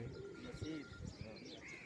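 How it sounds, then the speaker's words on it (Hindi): Soft pigeon coos from many pigeons rise and fall over a constant murmur of background noise and distant activity, in Multan. "बहुत ही ज़्यादा कबूतर हैं माशाल्लाह"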